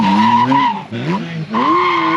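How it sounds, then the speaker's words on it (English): A BMW motorcycle spinning in circles during a stunt show at a vintage festival, a loud revving engine whine rising and falling with tire skid, two brief dips as the throttle eases, close by. "We'll spin back around one more time, coming back."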